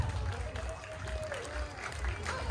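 Applause and a bit of cheering for the Jubilee Court at a Platinum Jubilee street party in Jaywick Sands, a moderate, continuous patter of clapping from an outdoor crowd with some voices mixed in.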